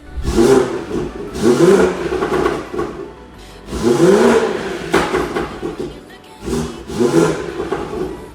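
A BMW B58 engine fitted with an aftermarket downpipe revs up repeatedly, each blip rising to a loud roar and then dropping back to idle, heard close up.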